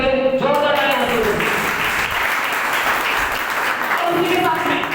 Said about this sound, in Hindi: हमारी कंपनी के great CMD mister Rakesh Rao sir के लिए जोरदार तालियां बजाइए